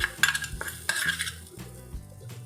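A spoon clinks and scrapes against a dish while mixing a raw mango takku relish, with a few sharp metallic taps and softer scraping strokes, close by.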